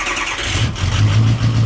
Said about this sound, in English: Listen to this little spool.